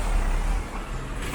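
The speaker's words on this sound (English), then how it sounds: "Great big truck." A great big truck passes through busy traffic at Trafalgar Square in London, its low engine rumble loud and close amid a steady roar of road noise, with no talking.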